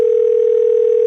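A telephone call tone sounding on the line: a single steady electronic tone, loud and unbroken, heard alone with no voices.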